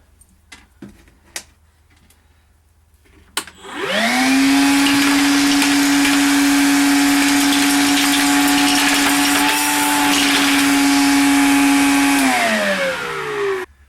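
Makita cordless shop vac switches on and runs steadily with a loud, even motor whine for about eight seconds while sucking up small scattered hardware, then spins down; faint rattles of the parts come before it starts.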